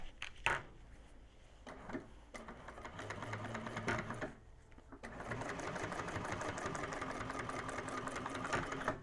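Sewing machine top stitching through a bag gusset panel, quiet rapid mechanical chatter in short bursts with a pause, then a longer steady run of stitching.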